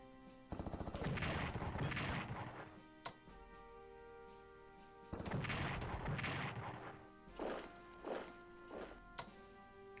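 Battle sounds from the Strategic Command World at War video game, set at Stalingrad: two loud bursts of rapid gunfire and artillery blasts, each a couple of seconds long, followed by several shorter isolated booms over a low background hum.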